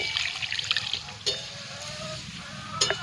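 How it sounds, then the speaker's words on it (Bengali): Raw meat is rinsed under running water at home, making a close, continuous trickle and splash with a few brief clinks and sharper spatters, and no voices. "মাংসগুলি ধোবো"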